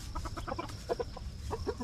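Chickens in a backyard flock cluck in short repeated bursts, fairly close and moderately loud, with no talking.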